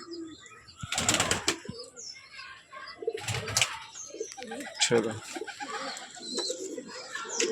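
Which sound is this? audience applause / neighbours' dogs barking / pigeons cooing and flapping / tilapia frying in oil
pigeons cooing and flapping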